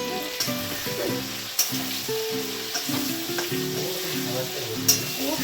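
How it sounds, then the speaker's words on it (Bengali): Turmeric-and-salt-coated shrimp hitting hot oil in a wok, a bright continuous sizzle with occasional crackles and pops, heard over faint melodic music in a home kitchen. "কড়াইয়ে চিংড়ি মাছটা দিয়ে দিচ্ছি, তেলটা গরম হয়েছে, ওর মধ্যে চিংড়ি মাছটা দিয়ে দিলাম"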